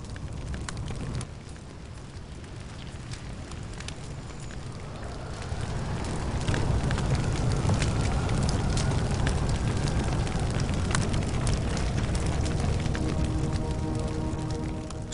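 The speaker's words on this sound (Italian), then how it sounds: "Il fuoco può significare la morte." Wildfire burning through dry-season vegetation, a dense continuous roar with crackling and popping that grows louder and fuller partway through, with no voices.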